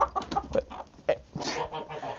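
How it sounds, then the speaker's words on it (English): Chickens cluck in a series of short, sharp bursts at close range, a chaotic flock sounding fairly faint with no talking over them. "These chickens are too chaotic"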